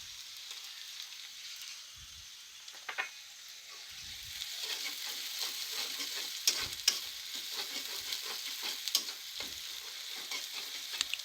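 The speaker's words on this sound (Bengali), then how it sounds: "মরিচ এবং গোটা জিরে হালকা ব্রাউন কালার করে ভেজে নেব" Whole cumin seeds and slit dried red chilies fry in hot oil with a soft, steady sizzle that grows louder midway, broken by occasional scrapes of a stirring spoon, heard close with no talking.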